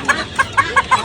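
Chickens cluck at a busy poultry and pigeon market in Hemayetpur: five short, evenly spaced, fairly loud clucks over a low murmur of crowd noise.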